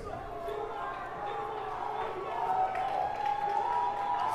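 Crowd at a high school football game at MLK Junior Park getting loud and cheering, a steady distant roar that swells toward the end beneath a commentator talking.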